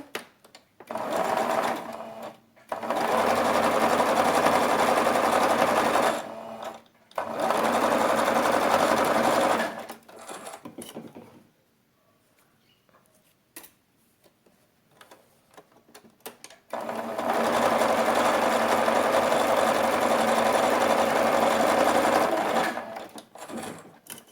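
A sewing machine stitching a fabric strip, in three long steady runs of rapid mechanical ticking, close and loud, with short pauses and a longer quiet gap between the runs.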